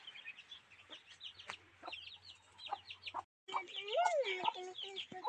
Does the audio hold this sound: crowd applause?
no